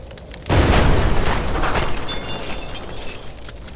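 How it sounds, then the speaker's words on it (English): A sudden loud blast from set-up fireworks in the video game Pathogen X hits half a second in, then a rumbling, crackling decay that fades over the next few seconds. "Had to set up a little fireworks."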